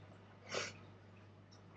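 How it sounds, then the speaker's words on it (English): A single short, sharp nasal sniff from someone with allergies, close and brief against a quiet background hum, followed later by a faint tiny second sniff. "I have allergies, so I'm sniffling"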